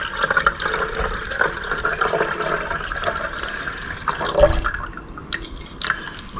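Solution poured from a container into a larger beaker during gold recovery, a continuous trickling, splashing stream with drips and a few heavier gurgles, close up and without talk.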